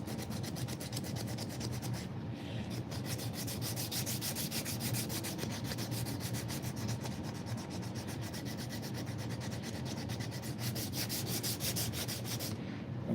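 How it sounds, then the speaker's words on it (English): A knife handle is sanded with 120-grit sandpaper over dried glue, producing fast, rhythmic back-and-forth rasping strokes, steady and close, with a couple of brief pauses. "Sand right over that glue."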